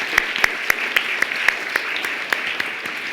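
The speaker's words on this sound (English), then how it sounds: "let's have one last round of applause for all of the candidates for the election for Kid Governor." Audience applause for the Kid Governor candidates at Connecticut's Old State House, a steady ripple of many hands clapping with distinct sharp claps standing out at a regular pace, moderately loud and without talking over it.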